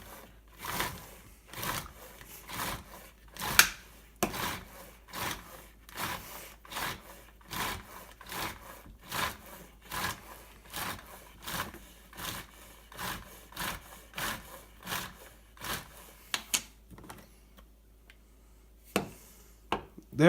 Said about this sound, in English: we're going to close the lid, lock it in place, and then pull the crank